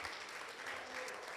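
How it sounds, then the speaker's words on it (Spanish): A church congregation claps together during a worship service, a brief, even wash of applause from many people heard at moderate distance, without any speech over it. "Dale ese aplauso al Señor."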